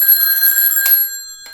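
Telephone ringing on an outgoing call placed from a rotary-dial phone: a steady, bright electronic ring that breaks off briefly near the middle and then resumes more faintly, with no voices.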